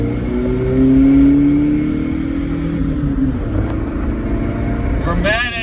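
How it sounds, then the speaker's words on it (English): A Chevrolet S10 pickup fitted with a Monte Carlo SS exhaust accelerates at full throttle, its engine drone rising steadily in pitch, loud and close throughout, with a brief whine near the end. "A little flooring at speed test in the S10."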